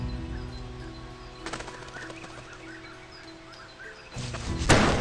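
A quail flushed from cover in the video game Gun, with wings flapping in a sudden burst near the end over a quiet outdoor ambience and faint bird calls.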